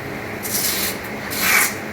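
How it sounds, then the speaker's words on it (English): Tight Velcro strip being ripped off during mould remediation containment work, two rough tearing bursts, close and loud, with no talk. "We can just rip this off. It's really tight with Velcro."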